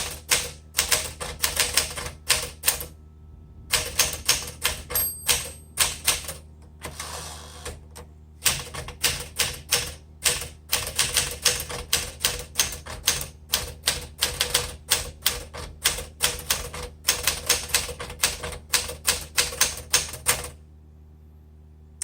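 A 1962 Smith Corona Sterling manual typewriter in seafoam green is typed on steadily, sharp key strikes coming in quick bursts with brief pauses, loud and close with no voices.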